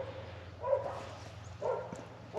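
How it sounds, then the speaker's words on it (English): Dogs bark in the distance at a hilltop campground on a cool morning, two faint bursts of barking spaced about a second apart over a steady low hum. "To the soothing sounds of dogs barking in the distance"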